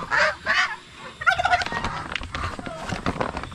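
Farm ducks call in loud, close honking bursts, with several rapid gobbling squawks overlapping one another against a quiet yard.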